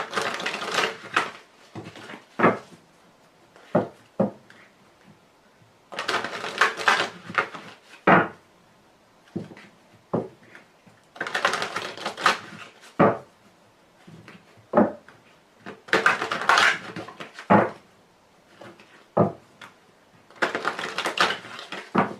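A deck of Lenormand cards is shuffled and cut in bursts of close, crisp riffling and slapping. Short pauses separate the rounds, and isolated taps fall between them, all without speech.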